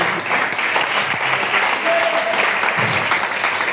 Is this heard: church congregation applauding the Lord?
yes